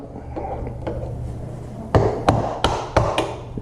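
An 18650 lithium-ion battery held in a vise, its casing cracking and popping loose in a series of about five sharp snaps over the last half, after a quieter stretch of faint creaking and handling noise.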